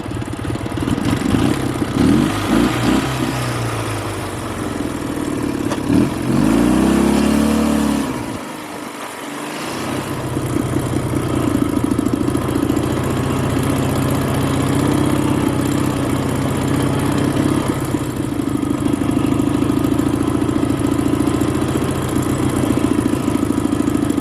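A Dnipro-11 motorcycle engine cranks and catches, then settles into a steady, rough mid-pitched idle that runs on without pause, close and loud with no talk over it.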